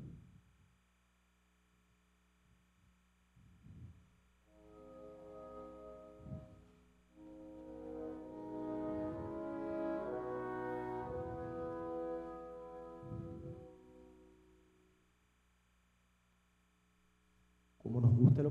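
Russian Orthodox church-style choral passage from Mussorgsky's Pictures at an Exhibition, played on piano in a lecture concert: soft, sustained chords swell quietly and fade, sounding distant, with a louder knock or noise at the end.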